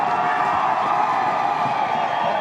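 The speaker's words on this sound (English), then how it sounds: "Big crowd on hand, and you can hear the roar" A large crowd at a rugby league grand final roars in a sustained, dense wash of cheering and noise, loud and steady throughout with no clear talk over it.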